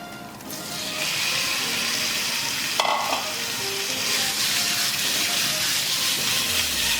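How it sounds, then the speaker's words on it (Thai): Pork pieces frying in a pot while making rice soup, a steady loud close sizzle that swells as the meat is stirred, with no talk over it. "ใส่หมูลงไปเลยนะครับ นี่หมูนะฮะ ใส่หมูลงไปเลย"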